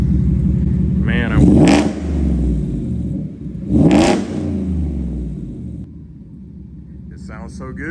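A Ford F-150 pickup with a twin-turbo engine revs twice in strong rising bursts, a deep rumble idling between them, with someone talking over the engine.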